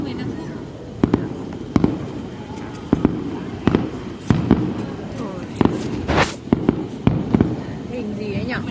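A fireworks display at Hồ Văn Quán fires a series of sharp, loud bangs and crackling bursts at irregular intervals, with people talking and exclaiming throughout.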